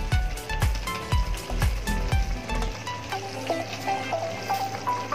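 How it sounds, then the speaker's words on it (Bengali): Spoon knocks and scrapes against a pan while spices are stirred into a milk paneer curry, several sharp rhythmic clinks at first, then softer scraping and faint tinkling from the pan, close and alone. "ভালো করে এটা নেড়ে দেব।"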